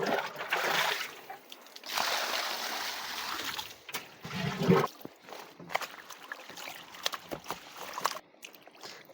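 Water trickles and splashes over freshly washed maize leaves and stalks close by, coming in irregular pours and drips with handling noise between them.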